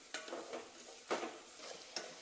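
Chopped onions with a little salt being sautéed in a pan, with three or four soft spoon strokes scraping through a faint sizzle, quiet and close.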